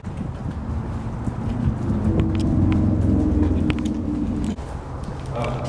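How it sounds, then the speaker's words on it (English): Freeway traffic rumbles steadily from inside a tunnel as a low, continuous roar that swells and then fades slightly, with a brief voice over it. "We're right by a freeway."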